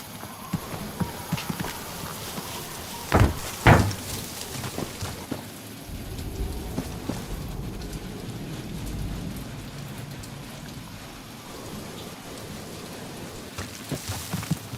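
Rain storm in the video game Guardians of the Galaxy, a steady wash of rainfall with low rumbling and a couple of sharp loud cracks early on, continuing evenly throughout.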